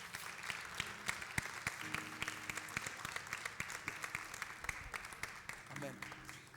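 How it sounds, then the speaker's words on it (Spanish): A church congregation applauds for several seconds, a dense wash of clapping with voices and murmuring mixed in and some tonal sound near the end. "Un aplauso al Señor Jesús."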